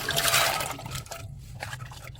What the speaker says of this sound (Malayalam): ചക്കക്കുരു മുങ്ങാനുള്ള വെള്ളം ഇതിലേക്ക് ഒഴിച്ചു കൊടുക്കാം